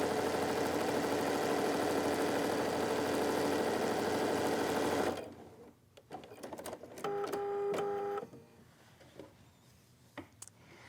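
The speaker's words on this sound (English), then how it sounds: "I have folded my fabric right on that line that I pressed in, and we sew." A sewing machine stitches a tuck along a pressed fold in fabric for a quilt project, a loud continuous whirring run for about five seconds that stops abruptly, followed by brief handling clicks and fabric rustle.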